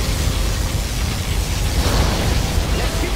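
A dense, roaring blast from a particle cannon in Command & Conquer Generals Zero Hour, loud and sustained across the whole short stretch.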